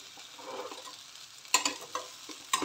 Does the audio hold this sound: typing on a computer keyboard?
no